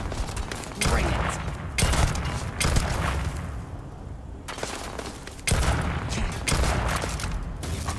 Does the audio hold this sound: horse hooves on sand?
no